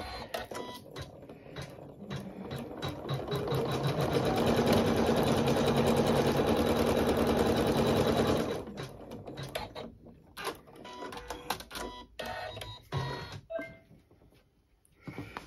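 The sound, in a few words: embroidery machine stitching appliqué design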